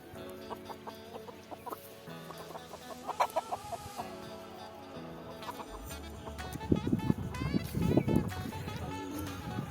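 Domestic hens clucking nearby in a village setting, with several short, irregular clucks and calls rising toward the end, while a person talks over them.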